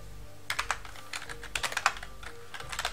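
Fingers type on a computer keyboard at a mainframe terminal, quiet close clicks coming in short bursts and clusters separated by brief pauses, alone in a quiet room.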